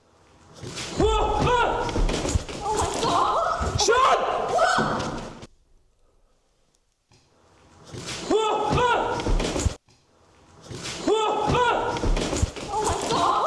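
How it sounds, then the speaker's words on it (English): A door slams shut twice with loud, heavy thuds in an abandoned building, each bang ringing out over voices talking, with a quiet pause between the impacts. "Did the door close? Yep. It tried to shut me in there."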